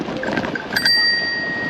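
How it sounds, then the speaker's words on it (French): A bicycle bell dings a couple of times up close, its bright metallic tone ringing on and fading slowly against street noise. "Voilà, marche bien cette sonnette."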